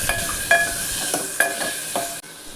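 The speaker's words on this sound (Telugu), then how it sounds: "ఫస్ట్ నేను ఆవాలు జీలకర్ర మెంతులు పచ్చిమిర్చి అన్నీ ఫ్రై చేశాను ఫ్రెండ్స్ అండ్ దెన్ టమాటా కూడా యాడ్ చేసి ఫ్రై చేశాను" Mustard seeds, cumin, fenugreek seeds, green chillies and tomato fry in a pan for jackfruit seed curry, with a steady sizzle and several sharp spoon clinks and stirring scrapes against the vessel.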